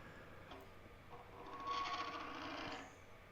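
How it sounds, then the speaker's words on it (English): A 1/2 inch bowl gouge makes shear scraping cuts on a wooden bowl spinning on a lathe, giving a faint, steady, buzzing whir that swells to a vibrating chatter midway and then settles back. "These are shear scraping cuts with my 1/2 inch bowl gouge"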